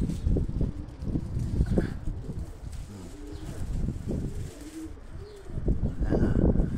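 Racing pigeons, a flock of older birds in a loft, coo steadily with overlapping low throaty calls, close and moderately loud, with no talk over them.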